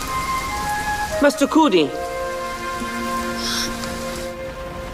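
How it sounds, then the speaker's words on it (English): Heavy rain pours down steadily throughout, with a voice calling out over it near the start and sustained tonal music layered on top. "it's raining so hard."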